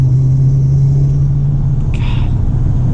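A Lincoln Mark VIII with a V8 engine and a manual transmission drives along, its low, steady engine rumble loud and continuous from inside the car, with a faint brief squeak partway through.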